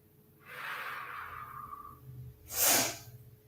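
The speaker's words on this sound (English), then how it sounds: "Sniffle, sniffle, sniffle." A drawn-out nasal sniff through the nose outdoors in chilly 40s weather, followed by a sharper, louder snorting inhale, both close and without talk.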